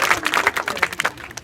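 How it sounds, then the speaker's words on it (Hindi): Scattered hand claps from a small group of students at a school in Mubarakpur, Uttar Pradesh, fairly close, fading out toward the end, with no talking. "आप सभी लोग पहले अपने लिए ताली बजा लो।"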